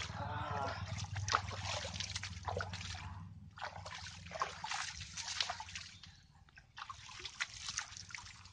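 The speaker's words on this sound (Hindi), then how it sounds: "वो पैर धुलाई कर रहे हैं देखो।" Water trickles and splashes nearby while someone washes their feet outdoors, coming in bursts separated by short pauses over a low rumbling background, fairly quiet overall.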